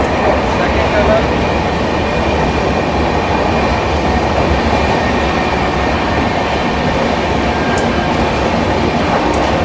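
Indian Railways train running through a tunnel, a loud, steady close roar of wheels and carriage rumble with faint metallic squeals, continuous throughout.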